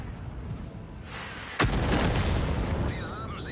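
Artillery fire in a video game: one sharp boom cutting through a low rumbling battle background, followed by a lingering roar, moderately loud.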